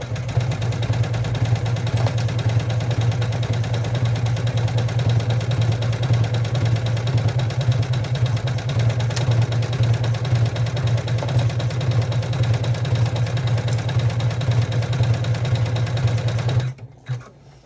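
An embroidery machine runs a bean stitch across a quilted bag made in the hoop, a steady loud mechanical whir with rapid rhythmic needle chatter that holds for about sixteen seconds before stopping abruptly.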